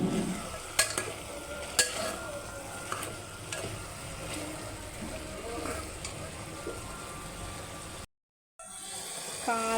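Mutton masala with mint stirred in bubbles quietly in a covered pot, a soft simmering sizzle with occasional sharp clinks of a utensil, briefly cut to silence near the end.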